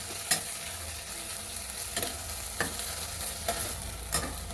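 Tomatoes fry with a steady sizzle in a pan for paneer mutter masala, while a spoon scrapes and stirs in sharp, irregular strokes roughly every half second to second, close and clear with no talking.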